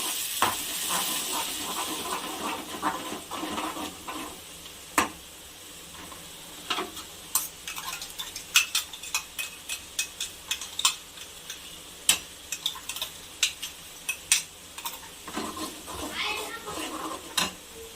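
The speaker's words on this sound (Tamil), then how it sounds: "நல்லா வதக்கிக்கலாம்." A ground tomato side dish sautés in a pan with a soft, steady sizzle, broken by repeated sharp taps and scrapes of a spatula stirring through it.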